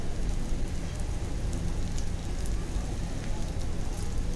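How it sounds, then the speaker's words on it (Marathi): Prawns fry in hot oil over medium-high heat until crisp, giving a loud, continuous crackling sizzle close up that holds steady throughout. "मीडियम टू हाय गॅसवरती आपण फ्राय करून घेणार आहोत"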